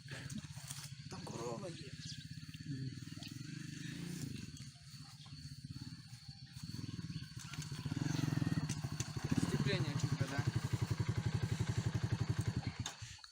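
A Musstang Alpha motorcycle, just repaired, runs steadily with a low engine drone that grows louder and rougher toward the end, as though revving or pulling away. People talk over it throughout.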